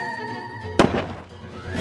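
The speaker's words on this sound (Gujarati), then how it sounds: "જો ભાઈ ટેટો ફોડવા જાવ હું" A single sharp firecracker bursts during Diwali. It is one loud, close crack, and a short rumble fades after it.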